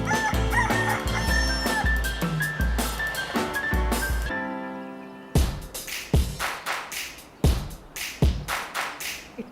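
A rooster crows close by at an old farmstead where horses, cows, chickens and ducks were kept, giving loud, harmonic calls, then a short pause and sharper bursts.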